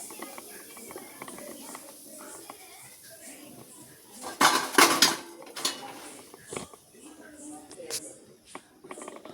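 Fried golden-brown karabonda is moved from the frying pan into a cooking pot, with scattered clinks and scrapes of metal utensils and a louder clatter partway through, under a faint voice.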